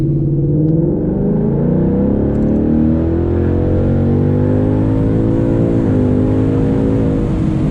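A tuned 2019 Ford Mustang GT PP1 V8 accelerates hard with the windows open, its loud, steady engine roar rising through the revs across a long pull, heard close from inside the car.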